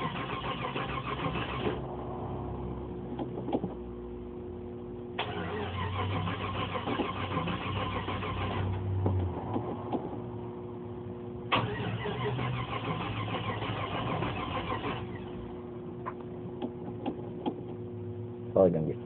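A Jeep Wagoneer cold-starting on a weak battery, the starter cranking in repeated bursts, with the engine sputtering and struggling to catch between attempts, close and fairly loud.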